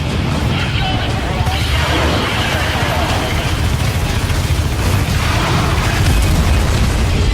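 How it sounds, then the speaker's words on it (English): A carrier's reactor explodes in a video game trailer, a loud, sustained, rumbling blast that roars without pause the whole time, thick with deep booming and crashing debris. "Direct hit on the reactor! The carrier is destroyed."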